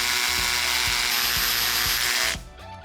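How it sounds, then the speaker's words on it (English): A power drill bores into the hollow center of a cinder block, whining loudly and steadily with a rhythmic low chatter before cutting off abruptly near the end. "this is what you don't want drilling into the center of a block"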